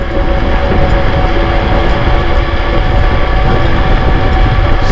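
A KuKirin G2 Ultra dual-motor electric scooter at full throttle, its steady loud roar of rushing wind and motor whine running unbroken near the rider, with no talk.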